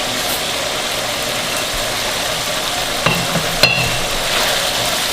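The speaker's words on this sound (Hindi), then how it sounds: "इन मसालों को डाल के आप अच्छी तरह इनको भून लें।" Ground keema frying with pickling spices such as fennel in a pan, a steady sizzle under a low hum, with a few sharp scraping and clanking stirs near the end.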